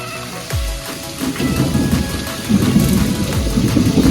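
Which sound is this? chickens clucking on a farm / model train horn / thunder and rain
thunder and rain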